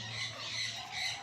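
Bird squawks and calls in an eco park, a steady chorus of high chirping at moderate distance over a faint low hum, with no voices.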